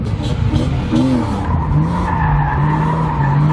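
A BMW E36 drift car spins its tires under heavy throttle, a loud, sustained screeching squeal over a droning engine that rises in pitch and holds steady, close up and continuous throughout.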